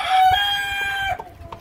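Brahma chickens kept in cages cluck and call in a steady rooster-like crow for about a second, then break off into a few softer clucks, close and fairly loud.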